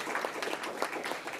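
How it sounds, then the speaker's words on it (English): Audience at a school board of trustees meeting applauds scholarship students, a steady wash of many hands clapping at moderate volume, unbroken for the whole stretch. "let's give those students a big round of applause."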